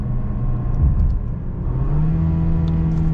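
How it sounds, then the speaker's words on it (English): The 2-liter turbo engine of a 2021 Mercedes C 300 drones and strains under load, its pitch dropping then climbing steadily as it revs, loud and close with no voices. "this engine just sounds so strained"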